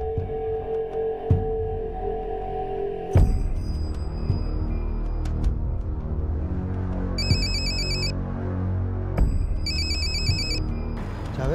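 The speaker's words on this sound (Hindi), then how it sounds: "जावेद का फ़ोन है।" A telephone rings indoors: an electronic ringtone sounds in repeated bursts, first a steady tone and then warbling chirps, heard alone with no speech.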